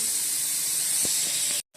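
Steady, loud hiss of a pressure cooker boiling potatoes, a continuous jet of steam that runs unbroken for over a second and a half before cutting off abruptly, with a brief return at the end.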